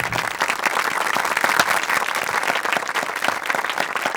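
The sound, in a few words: crowd applause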